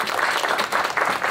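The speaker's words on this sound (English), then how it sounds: "Give a round of applause to Gwen Young." Audience applause for a panel speaker at a summit, a steady dense clapping from a crowd that holds at an even level throughout.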